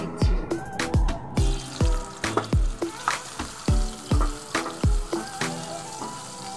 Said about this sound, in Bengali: সয়াবিনটা আমি তেলে দিয়ে দিই